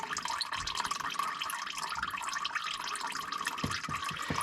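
Motor oil drains from a 1999 Jeep Grand Cherokee in a faint, continuous trickle with soft dripping, low and steady throughout, with no voices.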